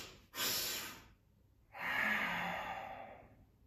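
Slow, forceful breaths through the nose during an alternate-nostril breathing exercise: one long airy inhale or exhale, a pause, then another sustained rushing breath, close to the microphone with no speech.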